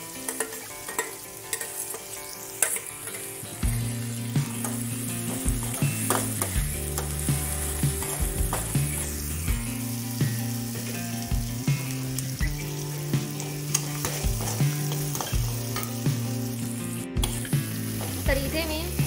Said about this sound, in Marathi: मी लसूण आणि मिरच्या अगोदरच तेलामध्ये थोड्याशा भाजून घेतलेल्या होत्या